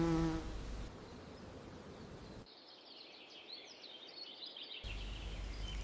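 A bee buzzes in a forest, a steady thin hum that wavers slightly in pitch and carries on alone without voices.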